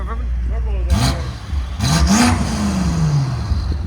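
BMW F90 M5 4.4L twin-turbo V8 with downpipes and a resonator delete being revved up close. Several quick rising engine sweeps rise over idle, with voices talking in between.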